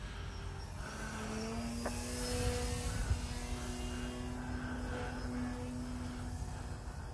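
An RC model airplane with oversized wagon-wheel landing gear flies in to land, its propeller drone sustained and fairly distant over faint background noise, swelling slightly midway.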